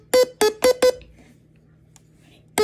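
A stylophone plays four short, bright, buzzy electronic notes in quick succession, then falls quiet before a fifth note sounds near the end, a snatch of a meme tune played close and loud.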